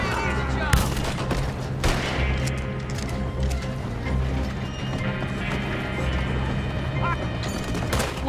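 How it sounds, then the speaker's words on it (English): Shotgun and other gunfire in Red Dead Redemption 2 come as sharp, loud blasts scattered through a busy game battle, mixed with hoofbeats, horse noise and constant background din, with some talk present. "Nothing is more satisfying than the shotgun in this game."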